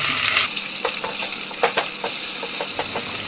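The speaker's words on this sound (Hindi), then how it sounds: "लहसुन अदरक को भी हमने 1-2 मिनट अच्छे से भून लिया है।" Ginger garlic paste fries in a pan for dhaba-style Punjabi dal makhani. A loud, steady sizzle is broken by repeated scraping strokes of a spoon stirring.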